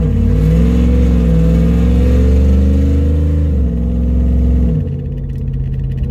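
A loud, close cammed 5.7 Hemi V8 truck engine with exhaust cutout open revs hard and holds at its 4,000 RPM rev limiter with a droning roar, then the pitch drops as the throttle eases off.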